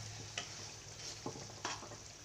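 Ground masala paste frying in oil for chole bhaji, a faint continuous sizzle with a few soft stirring scrapes, close but quiet, with no voices.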